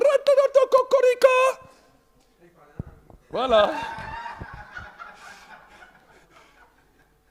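A man imitates a rooster crowing with a rapid series of short, pitched vocal bursts, followed by laughter and a longer drawn-out warbling call, loud and close in a room.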